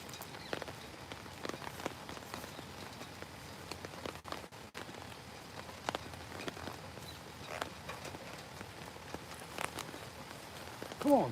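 Rain falls steadily outdoors by a former koi pond now turned into a fire pit, a faint, even patter with scattered louder drops and no talk.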